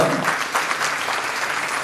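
An audience claps together through a Hindu religious discourse on the Bhagavat, a dense steady patter of many hands at moderate distance with no pause.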